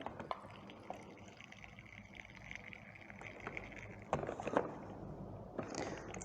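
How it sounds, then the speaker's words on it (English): Boiling water is poured onto dandelion coffee grounds held in muslin, producing a soft, fairly quiet trickling splash with a few sharper drips and clinks, close by and without speech. "then put on our boiling water"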